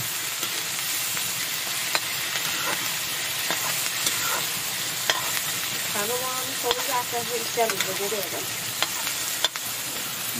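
In a village kitchen during cold rainy weather, food fries in a pan with a steady broad sizzle and hiss. Scattered sharp clicks and brief stirring scrapes break through it, and a faint voice passes midway.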